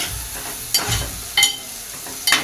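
Ground coriander-cumin powder and red chilli powder sizzle in hot oil for a Marwari-style khichdi, with a steady frying hiss broken by three sharp scrapes of the stirring spoon.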